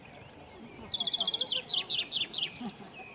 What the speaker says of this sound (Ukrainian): можна почути чарівну мелодію, яку нині тут творить розмаїття птахів